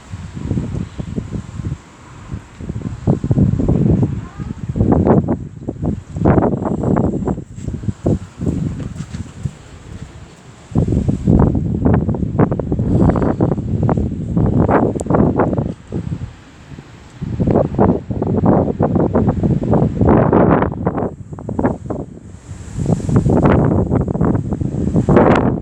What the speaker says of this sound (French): Une bourrasque qui arrive là